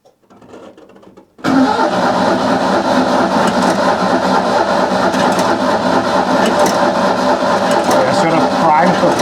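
A Citroën AZU engine cranks briefly, then catches and runs steadily at a loud, close, even idle.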